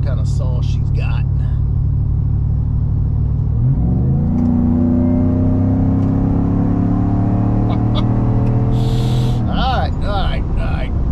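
Roush Nitemare Ford F-150 pickup, a 700-horsepower truck, settling from a low rumble then accelerating hard with a rising engine roar that climbs steadily for several seconds before easing off, loud and close under occasional talk.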